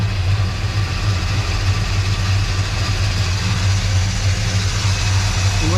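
A 1955 Chevy engine runs steadily on fast idle with the choke's idle-up stuck, a loud, close, continuous low rumble with no talking.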